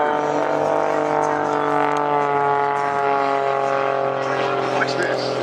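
Propeller engine of a Red Eagles aerobatic airplane at the Great Georgia Air Show in Georgia, a steady, loud harmonic drone that holds through the clip, with an announcer talking over it.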